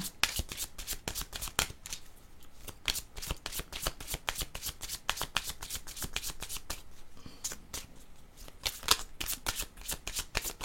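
Tarot cards being shuffled by hand: quiet, rapid repeated riffling and flicking of the deck in irregular bursts, continuing alone throughout.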